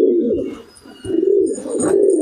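Pigeons coo in a loft housing a large flock of Patiala pigeons, with close, loud, rolling throaty calls running continuously and a brief dip partway through.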